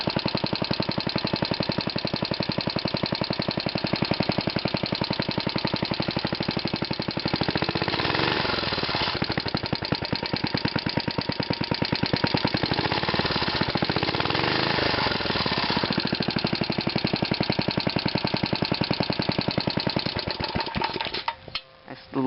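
An engine runs steadily and rattles loosely on a mount still missing its third support, a continuous close, loud, knocking clatter lasting about twenty seconds before a brief change at the end.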